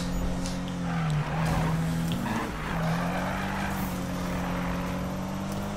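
A car in Need for Speed 2015 drifts during a drift contest, its engine droning steadily with a long squeal of skidding tyres, loud and close, with no talk.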